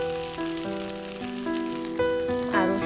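Capsicum and chopped onion fry in a hot pan, a steady close sizzle running throughout beneath sustained tonal music.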